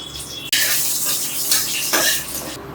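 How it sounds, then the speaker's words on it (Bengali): Cumin seeds, dried red chillies and bay leaves hit hot oil with a sudden loud sizzle that rises and stays steady, with a few scraping stirs of a spoon in the pan. "জিরে, শুকনো লঙ্কা, তেজপাতা ফোড়নে দিয়ে দিলাম"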